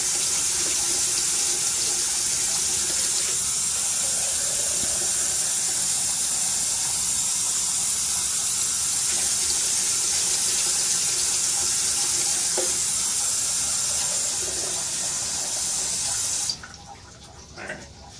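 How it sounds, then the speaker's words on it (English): Water gushes steadily from a tap in a loud, hissing stream that cuts off abruptly near the end, leaving a quiet room. "Now we got the steaming hot water, as you guys can see, coming in here."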